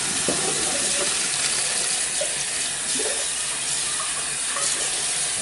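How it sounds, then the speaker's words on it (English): Cold water pouring steadily from a kitchen tap, probably into a colander in the sink, a constant hiss-like rush with faint clinks, alone and close. "So I'm going to put on the cold water."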